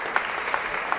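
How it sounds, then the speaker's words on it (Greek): A crowd at a veterans' football match claps for a former sports minister being introduced, a brief, even spatter of applause with a few sharper individual claps standing out. "Το χειροκρότημα."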